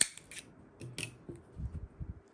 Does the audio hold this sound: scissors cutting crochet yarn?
yes